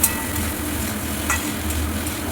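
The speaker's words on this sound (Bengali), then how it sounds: "সব সবজিগুলোই ভালো করে ভাজা ভাজা করে নিতে হবে" Vegetables with freshly added eggplant sizzle loudly and steadily in a hot pan as they are stirred for a Bengali hilsa-head and Malabar spinach dish, the frying hiss close and continuous.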